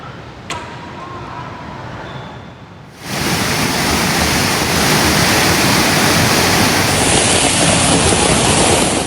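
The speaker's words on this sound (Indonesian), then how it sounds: "Banjir luapan Sungai Bedadung melanda sejumlah wilayah di Kabupaten Jember, Jawa Timur." Floodwater of the overflowing Bedadung river in Jember, East Java, rushes as a dense, loud, continuous roar after a quieter opening stretch, with no talking.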